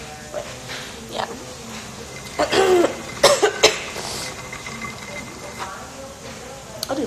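Several short coughs break out in bursts, with the loudest cluster in the middle of the clip. A faint buzzing hum runs underneath, and the overall level is moderate.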